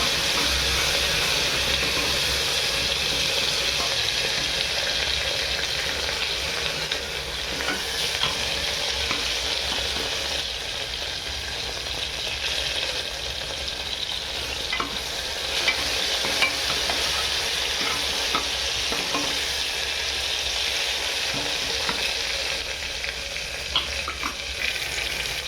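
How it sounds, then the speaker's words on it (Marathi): Finely chopped tomato fries in oil for Maharashtrian akkha masoor, giving a constant loud sizzle and hiss with occasional stirring scrapes throughout. "आता टोमॅटो, परतून घ्यायचं जरा चांगलं तेलात।"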